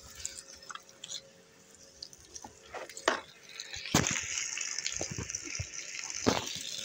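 Water is thrown across a floor during home cleaning in Pakistan, sloshing and splashing in several bursts, then a sustained gush and spatter near the listener, with faint clatter and no clear talk.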